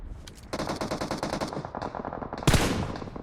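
Rapid automatic gunfire in the mobile battle royale game PUBG Mobile, with a dense burst of shots stretching over a second, then a sharp, louder volley of close shots near the end.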